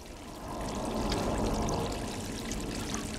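Murky water flowing and pouring steadily in the video game Stray, a continuous close rushing trickle that swells slightly and holds at a moderate level throughout.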